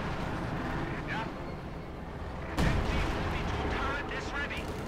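Battle sounds from the real-time strategy game Company of Heroes 2, a continuous rumble of distant gunfire with one heavier artillery-like blast midway, and a voice talking over the action.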